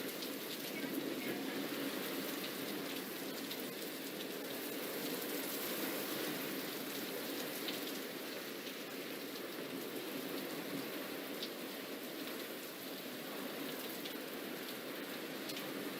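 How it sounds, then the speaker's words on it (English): Heavy rain pours in a dense, continuous hiss during severe weather, steady and fairly faint, with a muffled rushing wash and no clear breaks. "You can see just how heavy that rain is."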